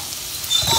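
Minced garlic, a tablespoon of it, hits hot sesame oil in a home kitchen pan, a soft broadband sizzle that swells louder partway through and keeps crackling close by, with no talking.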